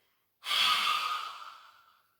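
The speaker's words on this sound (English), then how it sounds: "Breathing in, breathing out." A single deep exhale during a beginners' yoga breathing exercise, a soft close breathy rush that swells quickly and fades over about two seconds.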